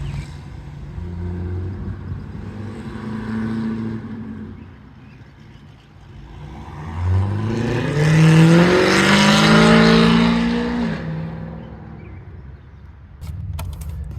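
A car drives past outdoors, a faint engine hum growing into a loud, close pass with rising revs that then fades away, no talk over it.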